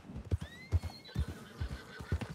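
A horse whinnies in a video game ranch roleplay, a rising, wavering neigh set over repeated clip-clop hoofbeats that thud steadily throughout, fairly close.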